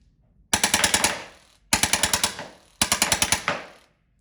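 A Drozd BB pistol fires three rapid bursts of about six shots each, the six-shot burst cycling near 600 rounds per minute. Each burst is sharp, close and loud, with short pauses between bursts.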